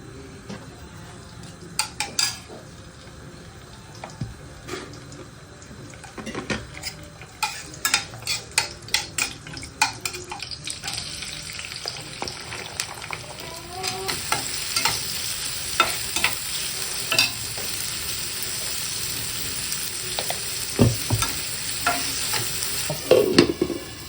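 Chickpeas roast in a pan while being stirred, scattered clicks and scrapes of a utensil over a sizzle that grows louder and busier toward the end.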